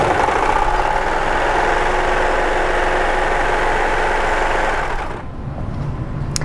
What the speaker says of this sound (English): So I'm going to be using my serger for the majority of this project.